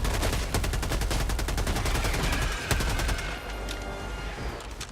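Steady rapid automatic gunfire in Helldivers 2, loud continuous rattling bursts for several seconds, easing slightly toward the end, with no talk over it.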